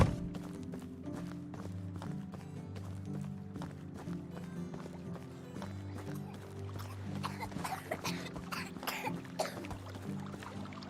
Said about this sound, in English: You kids having a cough off?